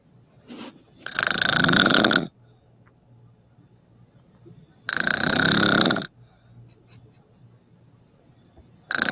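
A woman snores in two long, rough, rumbling breaths several seconds apart, with quiet breathing and faint low background hum between them. A third snore begins right at the end.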